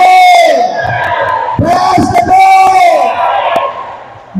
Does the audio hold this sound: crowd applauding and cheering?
yes